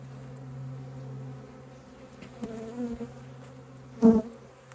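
Honeybees in a hive buzz around queen cages during late-season requeening, a soft steady drone with a tonal hum that swells briefly near the end, no voices over it.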